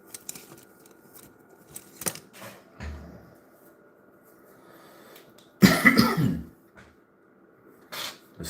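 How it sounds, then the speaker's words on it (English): Several sharp coughs scattered through an otherwise quiet room, with one louder, harsher fit of coughing in the middle and a couple of softer ones near the end. "This cough that just won't quit that everyone has."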